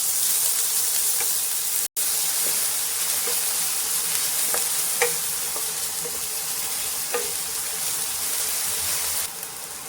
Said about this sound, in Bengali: তো পেঁয়াজটা এখানে অল্প করে একটু ভেজে নেব, বেশি ভাজবো না